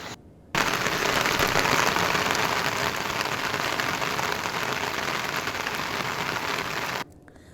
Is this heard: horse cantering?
no